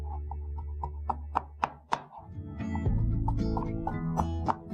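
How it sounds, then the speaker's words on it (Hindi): A knife slicing half an onion on a board, a series of sharp, close chopping taps at a quick, uneven rhythm, with a brief gap and a low background hum in the second half. "बाकी हाफ ऑनियन है इस तरह काटा और इसे करें स्लाइस।"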